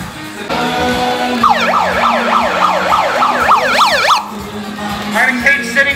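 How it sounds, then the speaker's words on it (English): A wailing emergency siren, like an ambulance or police siren, sounds loud and close in a diner, rising and falling in a steady repeating sweep over a few seconds while a voice speaks faintly underneath. "with the siren disturbing all these nice people"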